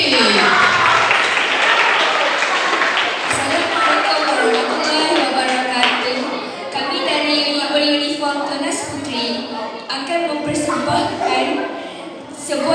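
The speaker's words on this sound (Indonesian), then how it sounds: "berikan tepukan kemurah kepada Pandu Putri" Audience clapping for a pupils' scout performance at a primary school culture night, a broad wash of applause that swells and wavers under crowd noise and scattered voices, loud and close.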